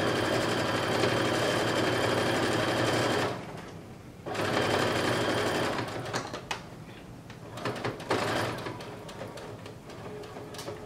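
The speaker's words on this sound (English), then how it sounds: "So you're just sewing all of the seams that you just pinned." A sewing machine runs fast stitching the sleeve seams of a blazer, a loud steady whir that stops briefly, resumes, then tapers into lighter mechanical clicks and handling.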